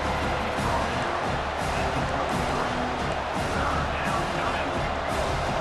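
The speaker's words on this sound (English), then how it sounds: "Decibels rising as the crowd gets behind this defense on third down" Continuous stadium crowd noise from the College Football 25 video game swells steadily as the defense lines up on third down, a dense roar with no clear breaks.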